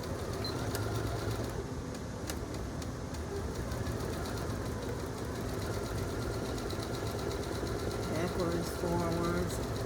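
A sewing machine stitches fabric for a pin cushion with a steady, fast mechanical whir and rhythmic needle clatter running continuously, with soft background tones.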